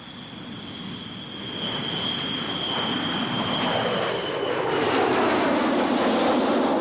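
An aircraft engine roars at an airbase on Guam near the end of the runway, a steady droning rumble with a high whine that grows gradually louder and closer.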